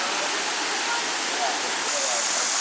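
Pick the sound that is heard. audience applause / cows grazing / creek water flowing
creek water flowing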